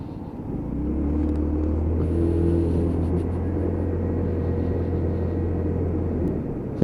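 Lexmoto Titan Euro 5 motorcycle ridden on a cold road, a steady low engine drone with rumbling wind noise close to the rider, holding fairly constant throughout with no talking.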